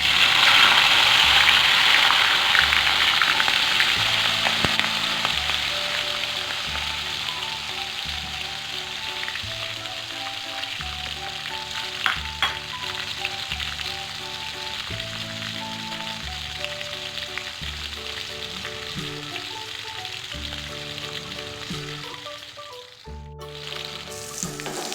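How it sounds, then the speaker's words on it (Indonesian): Chilies fry in hot oil with a steady, dense sizzle and crackle, close and fairly loud, continuing without a break and without talk, with a brief dip near the end. "Sekarang tinggal goreng cabenya."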